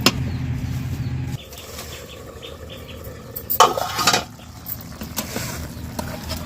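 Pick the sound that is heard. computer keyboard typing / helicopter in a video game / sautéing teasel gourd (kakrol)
sautéing teasel gourd (kakrol)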